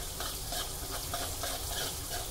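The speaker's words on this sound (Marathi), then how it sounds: "ही मिरची फ्राय करायची आहे व्यवस्थित" Finely chopped green chilies fry in oil over a low flame for a Diwali poha chivda, giving a steady close sizzle with soft crackling and faint stirring throughout, with no voices.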